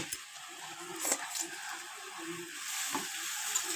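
Pasta being stirred in a pan, with a faint, steady frying sizzle and soft scraping as it is mixed, heard close by at low volume.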